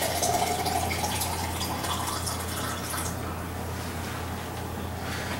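Filtered water pours steadily into a bowl for whole wheat dough, a continuous splashing fill that trails off into a softer trickle.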